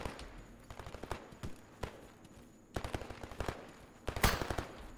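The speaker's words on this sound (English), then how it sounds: "No, they're firing at us. They are firing at us." Bursts of automatic gunfire aimed at the player in the shooter game S.T.A.L.K.E.R. Gamma, repeated sharp cracks in irregular volleys at moderate distance, with a louder close shot near the end.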